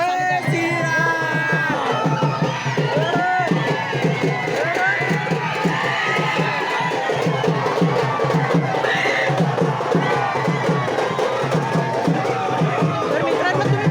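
A festive Independence Day crowd in Ridhora, Maharashtra, keeps up a loud, continuous roar of cheering, shouting and excited babble, with voices talking over the din throughout.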